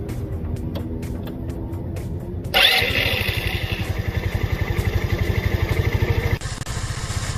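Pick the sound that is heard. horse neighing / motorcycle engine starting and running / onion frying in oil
motorcycle engine starting and running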